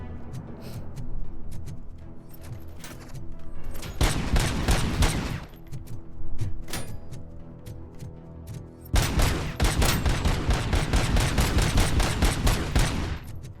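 Rifle gunfire in the video game RoboCop Rogue City: dense bursts of rapid shots in two long volleys, with scattered single shots and booms between them, loud and close.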